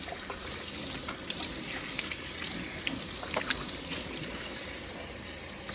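Hands washed under a running kitchen tap, a continuous hiss of flowing water with small splashes and trickles as the hands move through the stream, close by with no talk.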